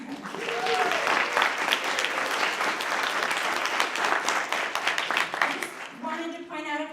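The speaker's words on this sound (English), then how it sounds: "So now we can all clap." An audience at a college artist talk breaks into applause. The clapping stays dense and steady for several seconds, then a voice begins talking as it dies away.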